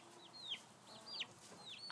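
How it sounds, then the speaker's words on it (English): A hen and her three baby chicks cluck and peep outdoors, giving several short, high chirps in quick succession over a quiet background. "There's Big Mama. There's her 3 baby chickens."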